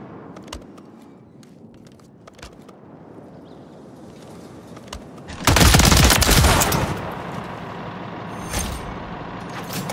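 A battle rifle fires in a video game shootout: scattered sharp shots early on, then a loud, dense burst of rapid fire that tails off into a few more isolated cracks.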